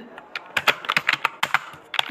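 Rapid, uneven clicking of keys on a computer keyboard, close up, with short pauses between bursts.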